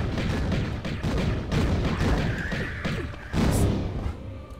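Gunfire in Tomb Raider Level Editor (TRLE) gameplay: a steady run of repeated thudding shots and booms, fairly loud and close, continuing through the stretch with no talk.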